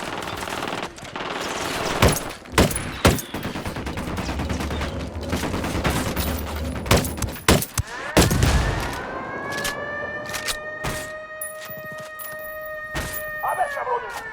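Mortar fire in Ghost Recon Wildlands combat, a series of loud, sharp blasts and rapid gunfire bursts at irregular intervals, with a siren-like tone rising in the final seconds.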